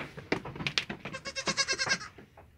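A young goat kid on a farm bleats close by, a wavering, quavering cry rising out of a burst of scuffling noise and tapering off.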